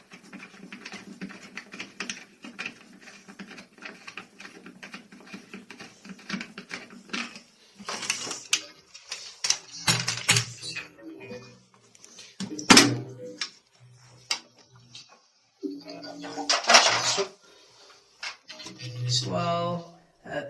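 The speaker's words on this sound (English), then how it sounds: "we proceed precisely with the disassembly by unscrewing these 2 plastic bidoni." Plastic parts of an ITS Hidrobox Dual concealed toilet cistern being unscrewed and lifted out during disassembly: scattered close clicks, scrapes and plastic knocks in uneven bursts, with quieter gaps and some louder rattling handling toward the end.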